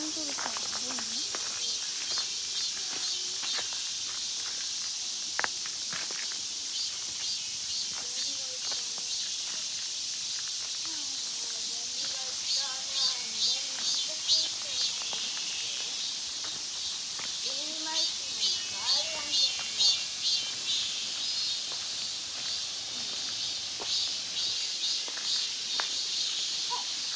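Cicadas drone in a dense, high, continuous buzz through a summer walk at Magoksa temple in Gongju, Korea, loud and steady throughout while a child and an adult talk underneath.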